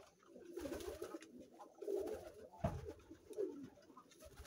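A gold neck pigeon trumpets softly in a series of low, rumbling coos very close by, repeating in short bursts at a calm, unhurried pace.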